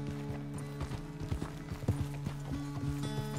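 Horse hooves clip-clop at a walking pace in Red Dead Redemption 2, a steady run of close, clear hoofbeats over a low ambient bed, with no speech.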